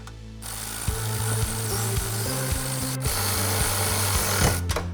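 A ratcheting power tool reinstalls a factory bolt on a 2018-2020 Mustang GT exhaust, buzzing in repeated rapid mechanical bursts close to the microphone with short pauses.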